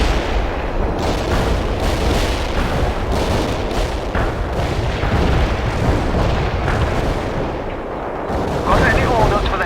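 Dense battlefield gunfire in the World in Conflict strategy game, rapid overlapping shots and booming artillery blasts rolling continuously at high volume, with radio voice chatter mixed underneath.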